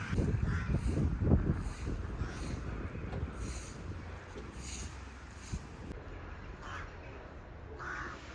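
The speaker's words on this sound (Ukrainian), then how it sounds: "Дуже багато ворон. Вони всі такі голосні." Several crows caw repeatedly from a distance in autumn in Ternopil, Ukraine, over a steady outdoor rumble of wind and traffic.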